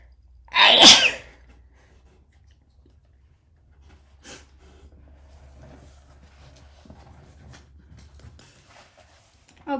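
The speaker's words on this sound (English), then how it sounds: "A sneezing fit." A single loud, sharp sneeze up close, followed by quiet breathing and faint rustling movement.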